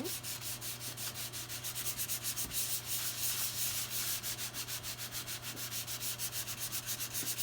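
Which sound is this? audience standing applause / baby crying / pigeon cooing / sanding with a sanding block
sanding with a sanding block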